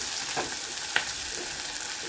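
Red chilies roasting in hot oil in a pan for a mixed dal with bottle gourd give a faint, steady sizzle with a few soft stirring clicks, heard close and without talk.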